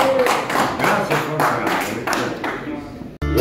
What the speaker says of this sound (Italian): facciamo un bel applauso a Don Bachi